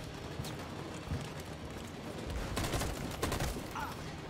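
Gunfire in the video game Detroit Become Human: dense bursts of shots and blasts crackle over a steady rumbling background, growing louder and busier toward the end.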